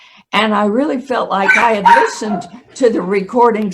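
A dog barks and yips in short bursts, close by, mixed in with someone speaking steadily in an indoor conversation.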